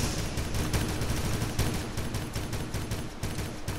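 Cannon fire in a video game battleship battle, a rapid sequence of loud repeated blasts in quick rhythm, close and continuous.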